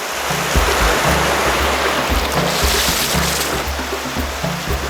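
River rapids rush loudly and steadily around a hydrospeed rider on a whitewater run at Bovec, a dense close roar of turbulent water with no voices.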